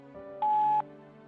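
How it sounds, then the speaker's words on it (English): A single clean electronic voicemail recording tone sounds for under half a second over a faint steady hum of line noise. "At the tone, please record your message."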